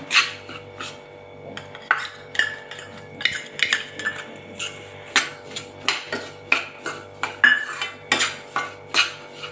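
A metal spoon scrapes and clinks against a pan of wheat flour halwa with ghee in a quick, steady rhythm of stirring strokes, close and clear with no voices.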